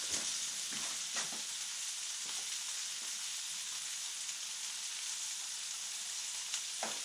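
Fish fries in olive oil in a frying pan, a steady, even hiss of sizzling that continues throughout with a few faint pops and no voices.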